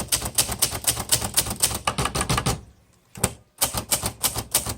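Rapid, dense keystrokes on a 1962 Hermes 3000 Roundtop manual typewriter, close and loud, with crisp type-bar strikes in steady runs broken by one short pause before typing resumes.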